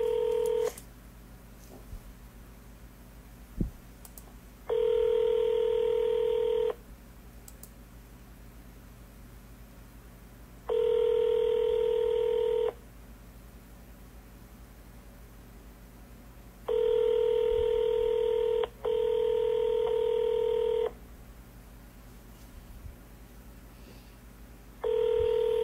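Telephone call tones: a repeating ringback tone in long steady bursts, four of them separated by pauses, over a faint hiss, with no talking.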